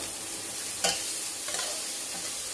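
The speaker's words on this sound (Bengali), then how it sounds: "মশলাটাকে একটু ভালো করে কষে নিচ্ছি" Garlic, turmeric and spices for a spinach curry being sautéed and stirred in a pan, a steady close sizzle with a couple of brief louder scraping stirs.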